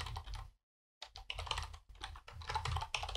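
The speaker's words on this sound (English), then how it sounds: "if I type in the vendor" Typing on a computer keyboard while entering a vendor name in accounting software, with quick close clicking keystrokes that break off for a short pause and then resume steadily.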